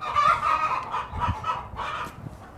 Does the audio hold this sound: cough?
no